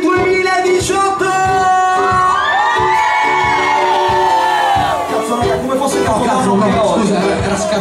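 A large crowd at a New Year 2018 event at Mad'In Italy in Verona yells in one loud, sustained shout, with high cheering and whoops rising above a dense wall of voices for the whole stretch.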